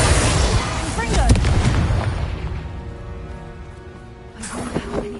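A Confringo explosive spell blast in Hogwarts Legacy booms loudly up front with crackling debris, then rumbles and fades, followed by a second burst near the end; a voice speaks over it.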